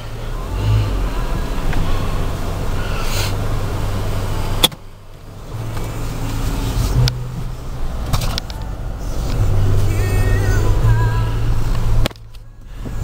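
A 2003 Toyota RAV4 on a test drive, with a steady low engine and road rumble filling the cabin throughout and a couple of brief dips where the noise drops away.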